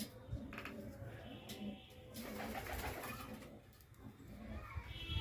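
Pangā-breed pigeons kept by a high-flyer fancier coo in several soft, repeated calls at close range, with a person talking intermittently over them.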